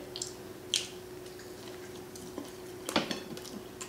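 Plastic barbecue sauce containers from Burger King clink and click as they are handled and dropped into a bowl, a few sharp light knocks over a quiet hum.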